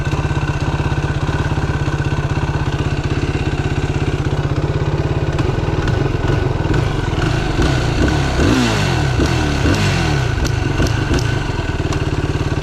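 A Yamaha YFZ450R ATV engine idles after nearly stalling, a loud, steady, close-up thumping putter that roughens and wavers in pitch midway as the idle hunts, then settles back to an even rhythm.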